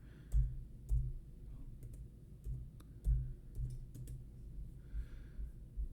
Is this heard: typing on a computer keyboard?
yes